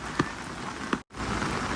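Rain drums on farm polyhouse roofs in early-morning rain, a steady close patter with two sharper drop impacts and a brief cut in the middle.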